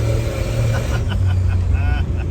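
A boosted 1963 Plymouth Valiant slant six fed through a Carter BBD carburetor accelerates at full throttle, a loud, steady low engine drone building throughout with faint whine, close and continuous.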